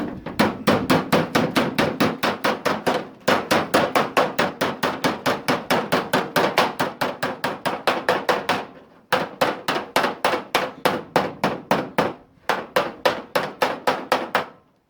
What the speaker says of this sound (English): That's not the right hammer.